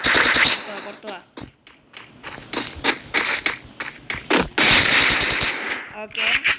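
Rapid bursts of automatic gunfire from the mobile battle-royale game Free Fire Max, with repeated loud volleys and short gaps, while a player talks over the action.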